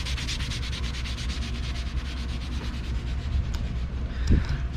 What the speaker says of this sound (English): He's scuffing up a little bit right now, getting all that